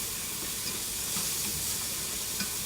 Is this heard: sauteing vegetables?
yes